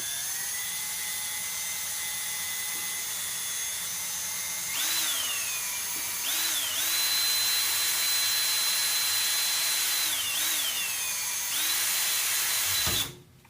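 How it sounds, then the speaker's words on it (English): A power drill whines steadily at close range while boring a small hole in metal for a recoil spring tool, its pitch rising as it spins up in several bursts, then cutting off abruptly. "I'm just drilling a little bitty hole next to the big hole"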